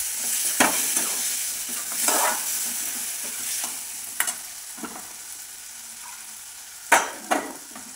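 Tomatoes and filling stirred and fried in a pan for a village-style vegetable curry, a close, steady sizzle broken by several sharp scrapes and clinks of the spoon against the pan.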